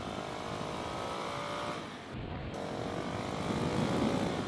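A Husqvarna 701 motorcycle engine drones steadily on a test ride, a continuous close engine note with wind rush that briefly dips and then swells louder toward the end, with no speech.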